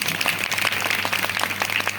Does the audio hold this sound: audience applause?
yes